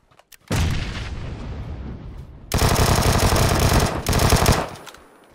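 Rapid SKS rifle gunfire in a shooter game fires in two long, dense, loud bursts separated by a short gap, each trailing off into echoing reports.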